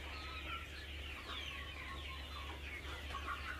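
Chickens at a two-month-old poultry farm cluck and chatter continuously, many birds overlapping at low volume over a steady background hum, with no speech.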